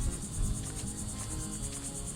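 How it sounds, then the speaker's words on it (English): A honey bee swarm hums steadily outdoors in a dense, continuous buzz with a high whining tone riding over low rumble, moderately close and with no voices. "You can still see the bees are looking for some place to go."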